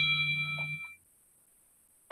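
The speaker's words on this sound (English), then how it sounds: "And my phone went ding." A phone notification chime rings once, a clear sustained tonal ding that fades out within a second, followed by silence and a brief sharp noise at the very end.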